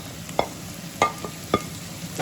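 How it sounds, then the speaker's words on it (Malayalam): Capsicum being stirred in a pan for pizza topping, with three distinct spatula scrapes spaced about half a second apart over a quiet background. "ക്യാപ്സിക്കം മിക്സ് ചെയ്യുന്നത്."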